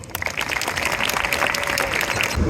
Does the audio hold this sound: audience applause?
yes